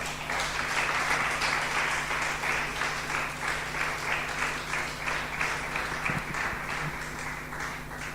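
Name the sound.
congregation applauding in church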